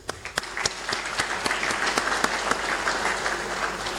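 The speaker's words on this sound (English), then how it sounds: "I think you deserve an applause" A room full of people at a centenary dinner applauds, scattered claps at first quickly building into steady, sustained clapping.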